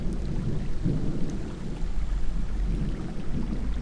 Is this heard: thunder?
yes